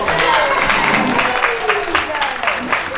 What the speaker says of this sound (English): Big round of applause for the storytellers.